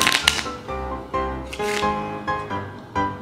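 Deck of playing cards being shuffled by hand during a card trick, a series of quick riffling bursts and crisp snaps, close and fairly loud with no talking.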